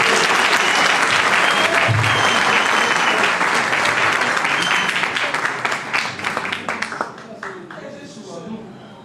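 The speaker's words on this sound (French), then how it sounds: "Sous vos applaudissements, mesdames et messieurs." Applause from a gala audience greets the opening speaker, a dense roar of many hands clapping that holds steady, then thins out and fades over the final seconds.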